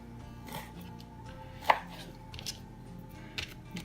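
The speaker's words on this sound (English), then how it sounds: "So I'm just gonna cut this up." A knife chops food into chunks on a cutting board, a handful of sparse, separate thuds with one sharper, louder strike near the middle, close and quiet with no talking.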